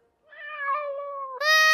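A cat lets out a single clear, drawn-out meow that rises in pitch and ends sharply, loud and close with no other sound.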